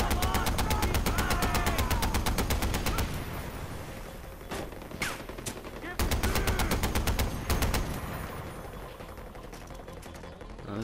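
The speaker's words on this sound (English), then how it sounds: "This turret's so satisfying." A mounted turret fires in Far Cry 4, loud rapid bursts of machine-gun fire in several long runs split by brief pauses, with game-world rumble under the gaps.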